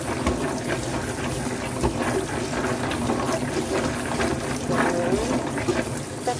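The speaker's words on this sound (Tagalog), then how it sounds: "Hugasan ang cashew nut." Cashew nuts washed under running water: a steady, close stream of tap water splashing and rattling in a sink throughout, with small clinks and shifts as the nuts are moved.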